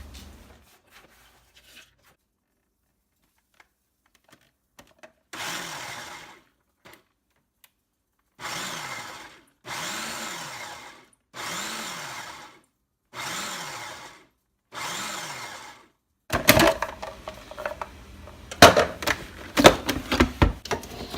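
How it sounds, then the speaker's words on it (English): A food processor chops roasted nuts in five short, loud pulsed bursts with pauses between them, followed by louder clattering and rattling at the end. "So I'm going to chop them up in the food processor."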